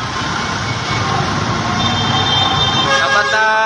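A fire truck siren and horn wail close by at a fire in Malate, Manila, the tone growing steadier and more tonal over the continuous rumble of vehicle engines.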